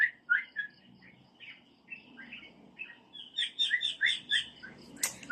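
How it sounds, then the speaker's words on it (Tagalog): Birds in trees chirp and whistle in short, bright phrases, sparse at first and then busier and overlapping, fairly close against a quiet outdoor background with no talking. "Maraming birds."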